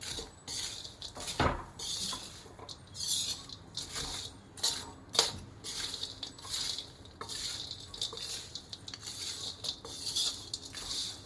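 A spoon scrapes and clinks against a pan as spices are mixed for gond ladoo, with irregular metallic taps and stirring rasps, close and moderately loud, and no talking.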